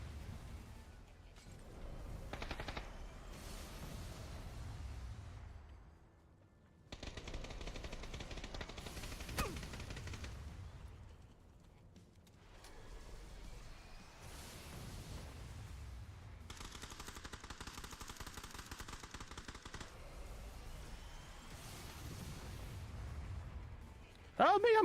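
AR rifle fire in a video game, rapid bursts of automatic shots coming in several long volleys with short pauses, fairly muffled, while players talk over it.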